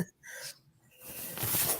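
A single sneeze bursts out close to the microphone, preceded by a quick sharp inhale, alone with no talking.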